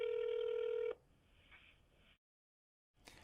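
A phone call rings out over the line, with a steady tone about a second long, then a quieter stretch, a silent gap and the start of another ring.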